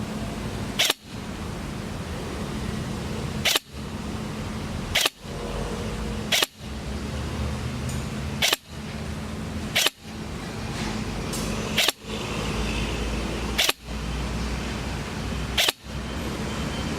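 Airsoft gun with a DTW modified T-HOP and HS+ barrel firing single shots outdoors in a light crosswind, about ten sharp clicky cracks at roughly two-second intervals over steady wind noise.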